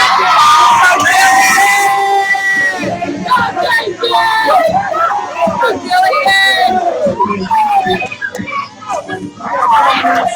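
A youth group crowd at a church event yells and cheers loudly for participants, a dense, continuous mix of shouting children and adults close by with overlapping voices.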